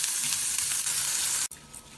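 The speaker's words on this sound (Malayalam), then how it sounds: "ഇതിന് കുറച്ച് സമയം തീ കുറച്ച് ഇളക്കി വറുത്തെടുക്കാം." Raw rice and lentils roasting in a pan on low heat, a steady loud dry sizzle and hiss with a brief break near the end, close and alone.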